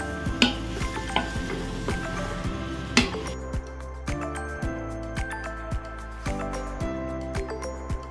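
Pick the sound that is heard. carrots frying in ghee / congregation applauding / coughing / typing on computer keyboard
carrots frying in ghee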